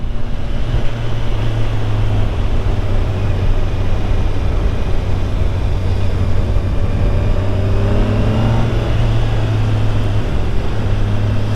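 A 2021 Kawasaki Ninja 1000SX sport bike pulls hard under acceleration, its engine drone steady and loud over heavy wind rush, with the pitch climbing gradually throughout.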